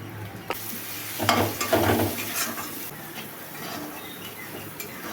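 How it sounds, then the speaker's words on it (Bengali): Ground turmeric and cumin frying in a pan, with a continuous close sizzle and a few louder bursts of stirring and scraping early on before settling back to steady frying. "গুঁড়ো মশলাগুলো ভালো করে ভাজা হয়ে গেছে"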